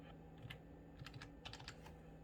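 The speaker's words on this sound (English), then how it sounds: "I'm typing in the token amount." Someone types on a computer keyboard, giving quiet clusters of quick, light key clicks with short pauses between bursts.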